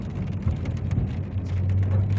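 Steady rain falling outdoors on a street during a flood-prone downpour, a dense continuous patter with a low rumble underneath and no voices.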